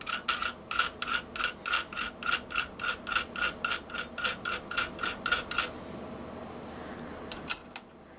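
Rhythmic rasping of a file deburring and trimming metal corners on a 3CX3000A7 amplifier build, about twenty close, even strokes in steady succession, then a pause and a few isolated scrapes near the end.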